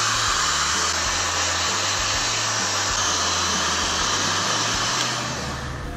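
A hot air gun softening the rubber sleeve of a motorbike air box blows a loud, steady roar of air at close range, easing off slightly near the end, with no talk.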